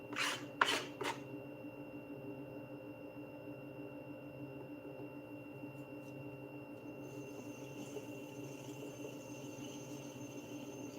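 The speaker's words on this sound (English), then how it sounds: "Just double checking how much of clay that I can trim." Clay being trimmed on a spinning pottery wheel. A few scraping rasps come at the start, then a faint steady rubbing whir follows, alone and with no talk.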